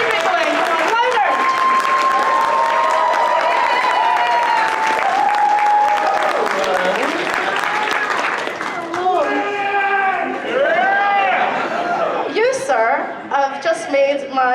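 Sustained loud applause from a panel audience welcoming the Red Dead Redemption cast, with cheering and whoops mixed in and the clapping thinning slightly toward the end.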